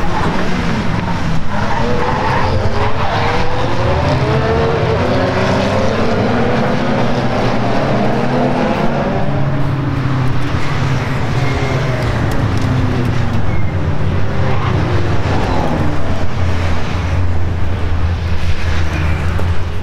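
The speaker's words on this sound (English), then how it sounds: "the drivers put on a spectacular display of high-speed overtaking" Intermarque silhouette race cars battle at Mallory Park, engines roaring loud and continuous as several cars pass and overtake at high speed, with rising and falling pitch sweeps over a dense constant track roar.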